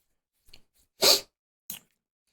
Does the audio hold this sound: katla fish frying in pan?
no